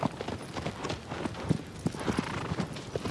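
Horse hooves galloping in the video game Shadow of the Colossus, a steady run of quick clip-clop beats, moderately near and even in rhythm over faint background sound.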